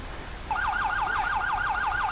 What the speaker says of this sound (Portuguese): Passou na equipe do SAMU